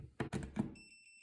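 Fluke T110 voltage tester probed into a wall socket: a few dull clicks and knocks from the probes, then a steady high electronic beep that holds to the end, faint and close, with no talk.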